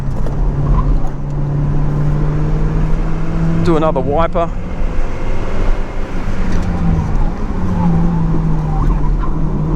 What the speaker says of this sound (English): Full throttle now, a little bit of oversteer